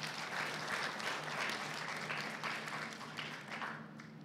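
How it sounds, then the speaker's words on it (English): Audience at a land-themed panel event gives a steady round of applause for the panelists, a fairly faint, even clatter of many hands that holds for several seconds and thins slightly toward the end. "Please give them a round of applause"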